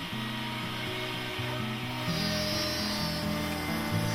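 A router cuts slot mortises in wood using an Incra LS positioner with a second stop, producing a steady, loud machine whine with shifting pitch throughout and no talking.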